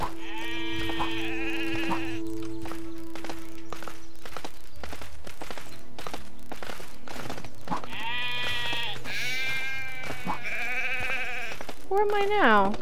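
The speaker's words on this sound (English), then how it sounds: "Sheep, sheep, sheep, sheep, sheep!" Sheep in the LEGO Worlds video game bleat repeatedly at close range over hollow clip-clop footsteps, while someone speaks excitedly in between.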